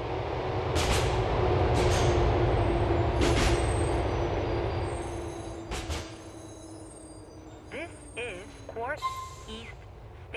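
A subway train rolls through Liberty City in GTA IV, a loud steady rumble with a falling whine that fades as it slows, followed by brake squeals, hisses and a recorded station announcement voice.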